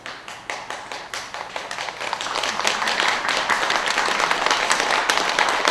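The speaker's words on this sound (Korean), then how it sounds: "박수치기에는 좀 이게 임팩트가 약한 소리 같은데" An audience at a Sunday Buddhist temple service claps in a dense, steady round of applause that starts with scattered hits and swells slightly louder, with no talking.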